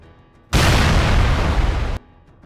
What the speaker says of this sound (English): Halo 3 Large Explosion.